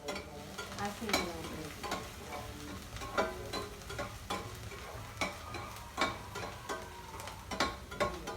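Onions sizzle in hot oil for a kadhi tempering, with a utensil stirring and scraping the pan in recurring strokes, close and fairly quiet, with no talk.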